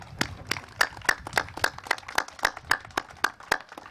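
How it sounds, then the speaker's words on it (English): Evenly spaced claps keep a steady, brisk rhythm at an outdoor Memorial Day ceremony in Darien, each sharp hit clear and distinct, with no talking over them. "How about a round of applause for all those with bad voices who sung?"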